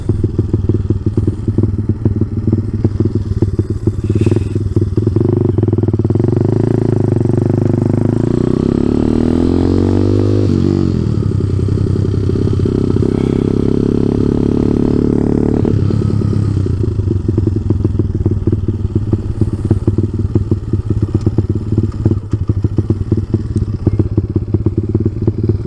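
An Ice Bear Champion engine with a replaced carburetor runs steadily at close range, a loud continuous buzzing drone that rises in pitch midway, holds, then settles back to an even idle.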